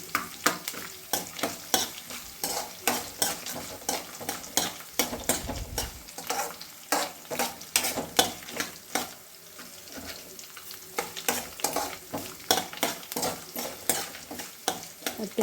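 Sweetcorn uppittu being stirred in a hot pan, a spoon scraping and clattering in a steady repeated rhythm over a continuous frying sizzle, close and fairly loud with no talking.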